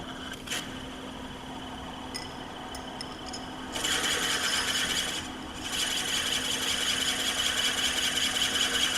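A drill bores about 4 3/4 inches into wood turning on a lathe at about 300 RPM, for a honey pot, in two sustained bursts of hissing, grinding noise, with a steady machine hum and a few clicks in between.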